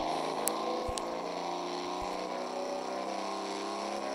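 A Bugatti supercar driven in a video game, with a steady, buzzing engine whine that holds at an even pitch throughout, plus a few faint clicks and no speech.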